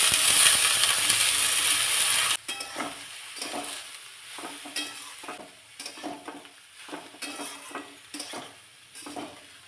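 Cabbage sautés in a pan: a loud frying hiss that cuts off abruptly, followed by repeated scraping and stirring strokes, with softer sizzling underneath.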